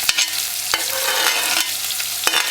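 Salt mackerel run down cooks in a pot, giving a steady hiss of sizzling and bubbling, broken by a few sharp scraping stirs.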